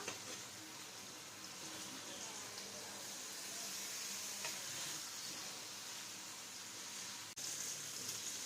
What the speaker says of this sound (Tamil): சிக்கன் ஒரு சைடு ஃப்ரை ஆயிடுச்சு, நம்ம திருப்பி போட்டுக்கலாம்.